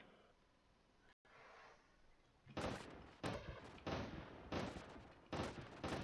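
Short bursts of automatic gunfire from a first-person shooter built in Unreal Engine, about five loud, sharp volleys firing in an irregular rhythm after a quieter stretch of low game ambience.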